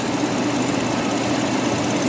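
A 1995 Mercedes S600 AMG idles shortly after a cold start, giving a steady, even engine hum with a low rumble and no change over the two seconds.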